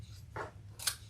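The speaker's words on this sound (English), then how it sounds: "I'm going to trim my seam" Scissors trimming a fabric seam on a sewing project bag, two quick close snips about half a second apart, crisp and isolated in a quiet room.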